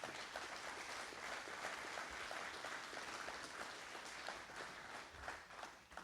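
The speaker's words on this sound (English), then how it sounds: "Let's give them a big round of applause." Applause for veterans from an audience at an outdoor wheat field day, a soft, fairly distant patter of clapping that stays even throughout and remains quiet.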